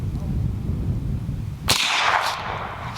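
One sharp, loud gunshot from a radial delayed rifle firing a supersonic 300 Blackout round, a sudden crack with a ringing tail, after steady outdoor background noise.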